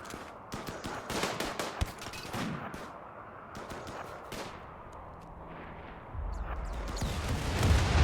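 A triple rocket launcher fires during a RimWorld raid, with a burst of sharp, rapid gunfire-like cracks over a steady background rumble, followed by a low, rising roar toward the end.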